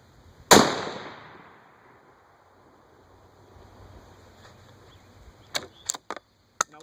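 A single sharp, loud gunshot from a Howa Mini Action rifle in 6.5 Grendel rings out near the start and decays into a long echo, followed several seconds later by a few quick metallic clicks.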